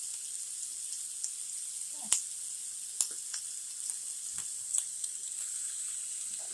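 A chorizo mixture sizzles steadily in a hot frying pan, producing a continuous bright hiss with a few soft clicks and pops from stirring, close and moderately loud with no voices.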